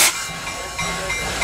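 Steam hissing from the vent of a flywheel steam engine as the valve is opened, a loud continuous hiss with a brief rise partway through.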